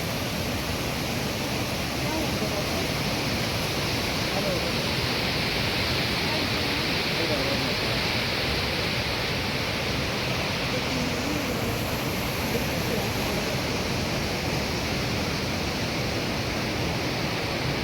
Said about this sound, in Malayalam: ഇതിലൂടെ വെള്ളം ഒഴുകുന്ന സൗണ്ട് കേൾക്കുമ്പോൾ തന്നെ നല്ല പേടി തോന്നും.